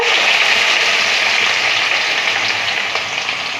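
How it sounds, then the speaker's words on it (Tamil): Small onions sautéing in hot oil in a pan for Chettinad chickpea kuzhambu, giving a loud, steady sizzle that holds evenly throughout with no talking. "வெங்காயம் சேர்த்தாச்சு. நல்லா வதக்கிக்கலாம்."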